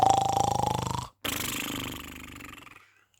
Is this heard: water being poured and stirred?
no